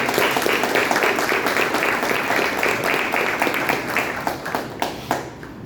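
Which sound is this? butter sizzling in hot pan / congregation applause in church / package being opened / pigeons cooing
congregation applause in church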